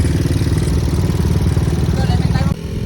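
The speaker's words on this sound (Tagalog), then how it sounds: "So may napansin nga pala ako sa motor ko, napakakalansing talaga, ang ingay." A motorcycle engine runs close by with a loud, rough, rattling clatter over a pulsing low throb, and a voice talks over it.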